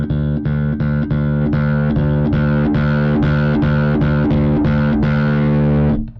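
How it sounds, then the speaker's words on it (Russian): A bass guitar plays through the overdrive setting of a BOSS GT-1B effects processor, loud and gritty, with a rapid run of repeated, evenly rhythmic notes that hold steady before a brief cutoff at the end, with no talking. "Вот басовый перегруз. Естественно, мы можем уровень драйва менять."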